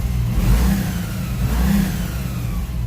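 A pickup truck engine fitted with a 2000 stall torque converter revs loudly and steadily at close range, a sustained mid-low roar with two slight swells, carrying a faint whine over it.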